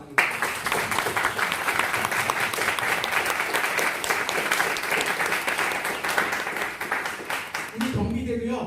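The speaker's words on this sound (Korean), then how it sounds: "우리 뜨거운 환영의 박수 나누겠습니다." A congregation at a military church Sunday service welcomes visiting battery and battalion commanders with warm, dense applause that carries on for several seconds. It ends abruptly, and a voice starts speaking right after.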